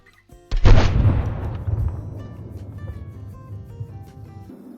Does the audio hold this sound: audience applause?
no